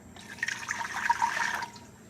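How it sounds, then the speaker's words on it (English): Water poured into an Instant Pot for oatmeal, a soft splashing fill lasting under two seconds, close and fairly quiet, with no voices. "then you're going to add 2 cups of water."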